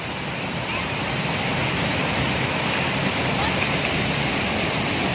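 A remote waterfall in Barru, South Sulawesi, pours with a steady, dense roar, close and loud throughout with no break.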